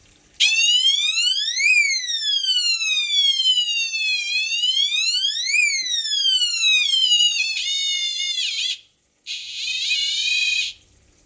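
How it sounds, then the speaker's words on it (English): An aquarium water leak detector alarm sounds loud and alone, a piercing electronic tone that sweeps up and down in slow whoops, then shifts to rapid warbling before a brief cutoff and a final steady burst. "when water reaches the wire, the alarm will go on"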